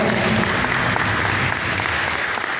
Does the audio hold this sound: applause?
yes